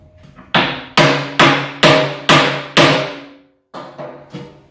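Six sharp hammer blows strike a bolt head to seat it tight into the composite edge of a Kubota tractor bucket, falling in a steady rhythm with a brief pause before a few lighter taps, loud and close.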